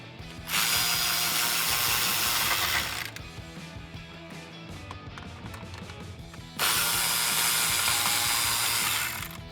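A ratchet backs out two 7 mm screws on a 2015–2020 Ford F150 3.5L EcoBoost: two loud bursts of rapid, buzzing ratchet clicks, separated by a quieter stretch of fiddly handling noise.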